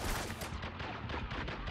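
AK rifle fire in the Spec Ops: The Line game, a rapid burst of repeated loud gunshots close by, densely packed and continuous over the short span.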